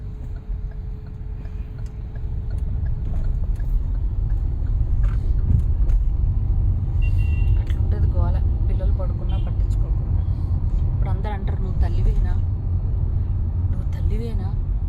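Road traffic in a jam, a low steady rumble of idling and creeping vehicles with occasional distant horn-like tones, a voice speaking over it partway through.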